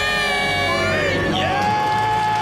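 A small group of people scream and cheer in celebration of becoming debt-free, a loud, sustained burst of high-pitched shouting and whooping with voices overlapping close to the microphone.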